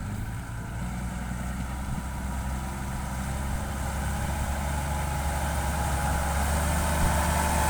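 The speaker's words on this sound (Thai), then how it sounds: "เครื่องยนต์นี่น่าจะเป็น หกสูบครับ เครื่องยนต์นะครับ เป็นระบบ เครื่องยนต์หกสูบนะครับ" A Ford two-axle tractor with a six-cylinder engine idles with a steady, close, low rumble that holds evenly throughout and swells slightly toward the end, with no talking.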